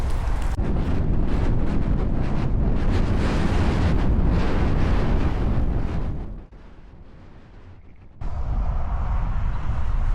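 Loud, sustained wind of about 20 mph gusting to 26 roaring and buffeting the microphone on a bike trail, with a brief lull partway through before the heavy gusting returns.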